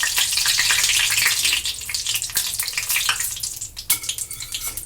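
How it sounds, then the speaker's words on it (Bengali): Green peas kachori frying in hot oil, a dense steady sizzle with bubbling crackle throughout, loud and close, easing slightly partway through as the batch settles. "এই আর একটা কচুরি আমি তেলে দিয়ে দিচ্ছি।"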